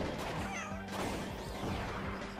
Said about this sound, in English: If you hear a meow